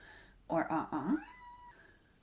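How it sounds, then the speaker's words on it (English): A pet cat meows indoors, with two or three short voiced calls in quick succession followed by a fainter trailing tone, close and moderately loud against a quiet room. "My cat meowed."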